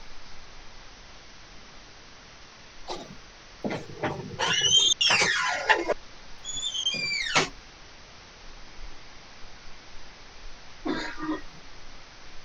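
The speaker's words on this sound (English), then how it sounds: "I think I'm gonna have a coughing fit" Someone with a cold breaks into a coughing fit: several harsh coughs and throat-clearing bursts, clustered in the middle, with quieter single coughs spaced out afterward over a faint background hiss.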